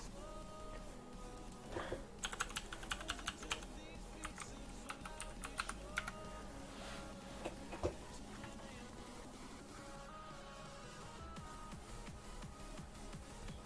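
Rapid clattering keystrokes on a computer keyboard, typed in quick bursts with short pauses, close and fairly loud against a steady background hum.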